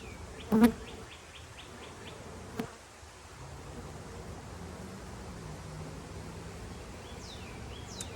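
Honey bees buzz around a newly installed third hive started from a nuc, a soft, steady drone with individual bees whining past close by, plus a brief thump near the start.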